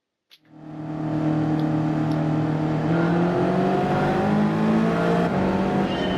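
Several race car engines rev and drone together at the start of a Gran Turismo 7 race, loud and sustained, with rising tones as the cars accelerate away after a brief click at the start.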